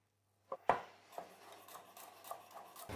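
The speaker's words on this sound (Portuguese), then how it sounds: "Depois corto o alho em pedacinhos." Garlic being chopped into small pieces with a knife on a board while preparing a marinade: a couple of sharp close knocks, then a few lighter taps and rustles, with no talking.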